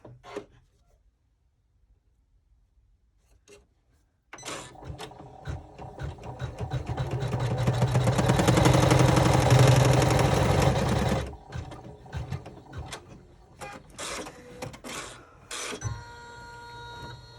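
A sewing machine stitching a chevron braid clutch starts after a quiet lead-in, runs in a fast continuous whir that builds and then stops, followed by short stop-start bursts of stitching.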